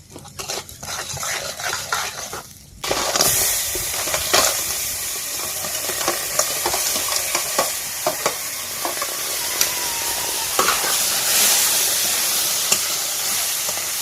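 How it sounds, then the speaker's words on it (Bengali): Crab fries in hot oil with salt and turmeric in a kadai: a loud, dense sizzle breaks out after a quieter start, with frequent scraping stirs and clinks against the pan. "কড়াইতে তেল দিয়ে দিচ্ছি একটু নুন হলুদ দিয়ে কাঁকড়া ভেজে তরকারি বসিয়ে দেব"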